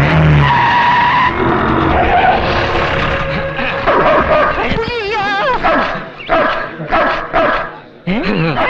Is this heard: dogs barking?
yes